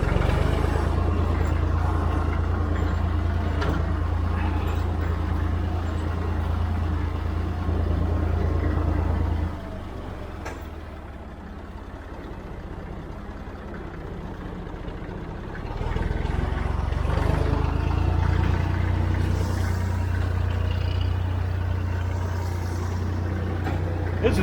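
A Massey Ferguson 50 diesel tractor in high range, second gear, pulls a hay trailer on a farm, its engine a steady, loud drone that eases for a few seconds in the middle before swelling back.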